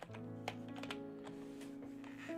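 Short bursts of computer keyboard typing, a few crisp key taps close by over a steady low hum, with a brief pause between groups.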